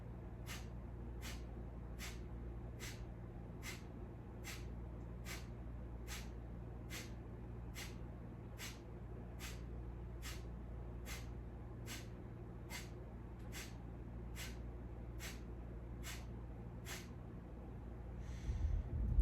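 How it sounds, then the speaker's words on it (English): Breath of Fire pranayama: sharp, forceful nasal exhales about once a second in an even, unbroken rhythm, each a short puff of air, heard close over a low steady hum. "You're going to forceful exhale, passive inhale."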